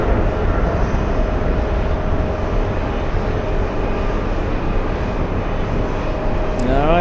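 A British Airways airliner takes off at JFK airport, a loud continuous jet roar holding steady and close, with a faint whine rising near the end.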